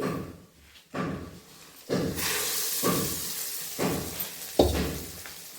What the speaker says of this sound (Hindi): पूरा हमें मूंगफली को चटकाना है, भूनना है।